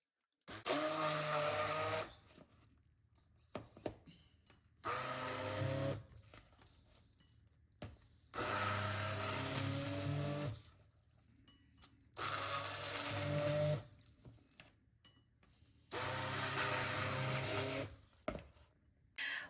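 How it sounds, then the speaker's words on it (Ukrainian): A blender runs in five bursts of a few seconds each, loud and whirring, pureeing cottage cheese into a paste, with short quiet pauses and small clinks between them. "для початку я хочу кисломолочний сир пробити блендером, щоб він став більш пастоподібний"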